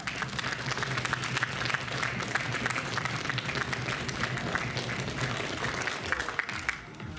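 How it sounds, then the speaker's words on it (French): At the BronyDays 2015 cosplay contest, a crowd welcomes a cosplayer with sustained, loud applause, a thick unbroken clatter of many hands that keeps an even level before easing slightly at the very end. "on peut l'applaudir bien fort"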